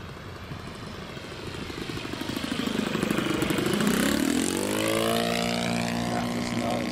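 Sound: RC model aircraft engine idling (tick over)

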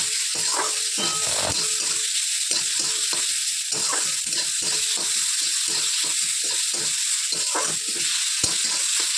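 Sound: onion and tomato frying in a pan

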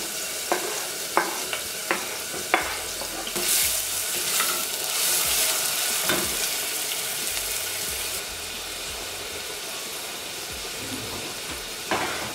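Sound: pepper and onion frying in olive oil

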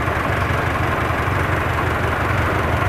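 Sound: vintage truck engine idling

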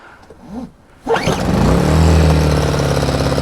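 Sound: 850 W inverter generator engine starting

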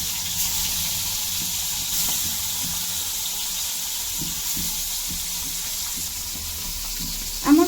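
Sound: singi fish frying in hot oil in a kadai

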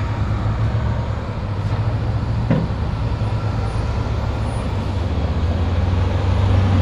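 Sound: big truck passing on the road

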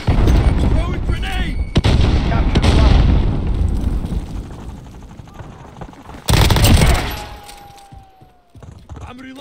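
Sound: grenade explosion and gunfire in video game Call of Duty Warzone

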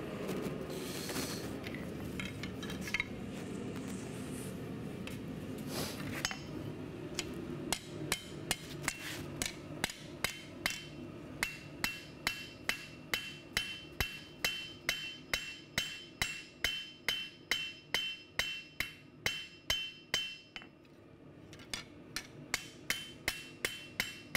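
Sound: hammer forging a culinary knife blade

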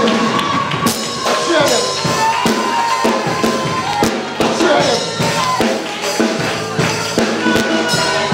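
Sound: congregation cheering at a baptism

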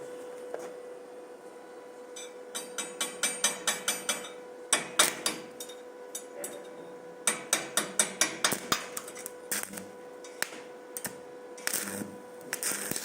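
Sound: Koval MMA-350 inverter welder arc cutting 6 mm steel, 130 A

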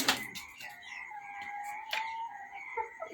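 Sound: hen kept indoors clucking

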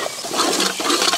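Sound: water poured into cooking pot

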